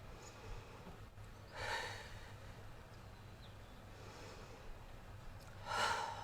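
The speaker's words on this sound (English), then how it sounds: "3 more breaths like that on your own." Breathing exercise in a yoga class: two slow, airy exhales rise out of a quiet, steady room hum, with a long pause between them and no talking.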